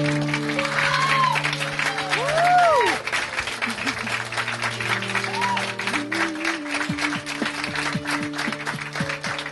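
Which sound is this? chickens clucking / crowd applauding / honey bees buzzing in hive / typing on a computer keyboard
crowd applauding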